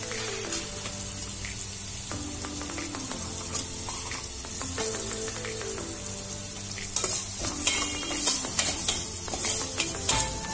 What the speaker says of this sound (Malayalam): ഇനി ഇതിലേക്ക് നമുക്ക് ഇഞ്ചി വെളുത്തുള്ളി ഇട്ട് കൊടുക്കാം